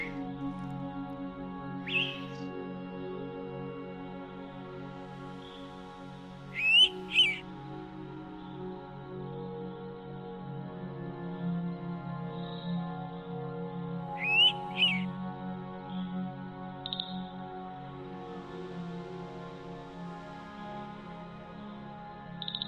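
Wild birds in a wooded forest give a few brief, scattered chirps and calls, set against a steady musical bed that runs throughout.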